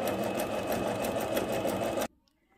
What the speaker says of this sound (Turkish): Şöyle overlock dikişlerini de gidiyorum.